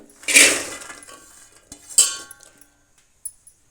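Two loud metallic clinks ring out as washed fresh field beans drop into a metal pot, each followed by a fading ring, with smaller taps afterward.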